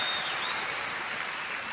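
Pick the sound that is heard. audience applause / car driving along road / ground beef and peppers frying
audience applause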